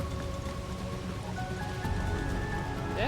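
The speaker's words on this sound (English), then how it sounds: "I thought the cutscene was still going because I heard the rain." Steady rain from the game Final Fantasy XVI falls as a continuous hiss under a layer of sustained musical tones, with a brief rising sweep near the end.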